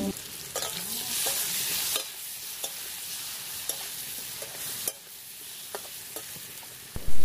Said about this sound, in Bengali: বন্ধুরা এদিকে আলুটা ভাজা হোক,